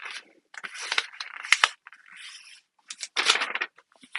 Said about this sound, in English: you use this shape now to cut out your fusible fleece